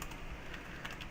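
Steady, fast typing on a computer keyboard, close and continuous, with dense overlapping key clicks and no voices.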